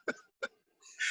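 Two sharp coughs in quick succession, a brief pause, then a rising raspy throat sound, close and fairly loud with no talking.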